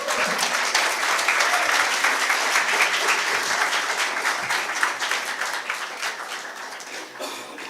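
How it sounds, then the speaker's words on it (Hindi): An audience at the Ajeeb Design Fest applauds a speaker with dense, sustained clapping that holds steady and then gradually thins toward the end. "अब तालियां बजा सकते हो आप लोग"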